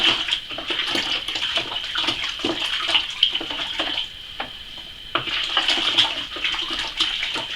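Water sloshes and swirls steadily in a container, with a continuous watery hiss and soft clinks from stirring throughout.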